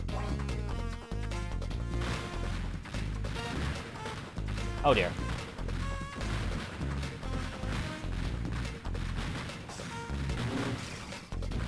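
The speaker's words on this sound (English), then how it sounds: "That was just too many missiles just then." Missile explosions from The Incredibles on the Game Boy Advance: several blasts crash through busy, loud game music, and someone speaks briefly over them.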